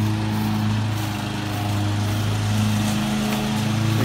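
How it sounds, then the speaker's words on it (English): A lawn mower cuts lush grass at a height of 4 inches as a lawn care crew works, its engine holding a loud, steady, close drone throughout with no voices. "Currently we're mowing this at 4 inches"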